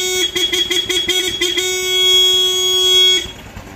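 The horn of a 2019 Honda Wave R 110 motorcycle sounds close and loud, first as a quick series of short toots, then as one steady held blast that cuts off abruptly.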